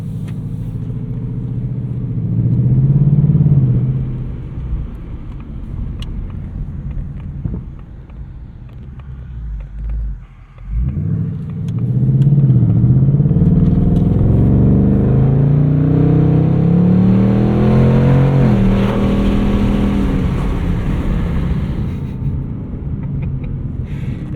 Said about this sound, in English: I'm gonna put my exhaust in track, and we'll make some noise